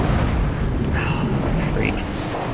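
Units fire in a naval strategy game, with submarines among them: a dense, steady roar of in-game explosions and cannon fire fills the whole stretch, loud and continuous, with no clear separate shots standing out.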